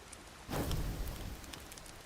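Steady rain hissing in the video game Dragon's Dogma 2, a soft, even wash of drops that swells slightly partway through, with no voices.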